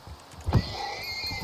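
A horse neighs once, a short whinny in a Satu Nyawa video game, over steady game background noise.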